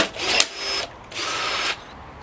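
A cheap cordless 1/4 inch rivet gun whirs in two short motor bursts as it pulls a rivet, loud and close, with a brief pause between them.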